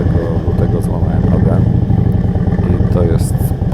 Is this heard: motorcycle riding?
yes